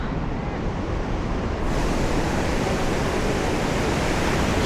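Sea waves break on the shore during a wade into the sea, a steady, loud broadband wash of surf that swells slightly partway through and never stops.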